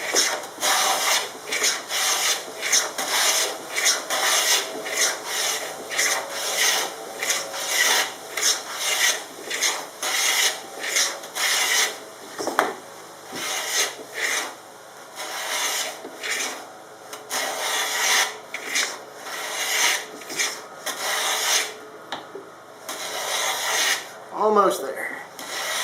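A router with a depth stop cuts a cove molding profile into a wood board, giving a steady rasping, grinding buzz with rhythmic pulses from repeated passes, close and loud with no talk over it.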